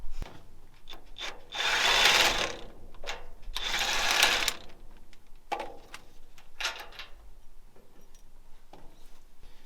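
Metal ratcheting and scraping from a tool unscrewing a part during a hands-on mechanical repair, with two longer loud grinding bursts followed by scattered clicks and rubs, close by and without talk.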